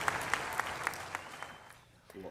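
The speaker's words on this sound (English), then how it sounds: "Love the roar of the applause there at Southeast Christian." Crowd applause and cheering fill a church hall at Southeast Christian for a welcome-home gathering, with sharp clapping bursts standing out over a steady roar that fades toward the end.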